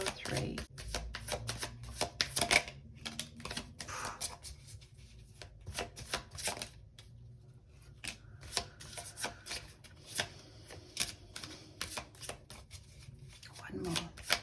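Tarot cards are shuffled and drawn by hand, with a continuous run of crisp riffling, slapping and sliding bursts close to the microphone, a voice talking quietly in between.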